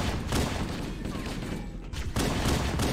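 Bursts of automatic gunfire rattle through a Halo: Combat Evolved firefight, dense overlapping shots with a brief lull near the middle, mixed with game sounds and voices.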